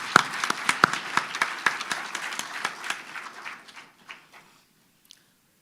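Audience at a public medical faculty lecture claps in a brief round of applause, fairly sparse and close, fading out over a few seconds into near silence.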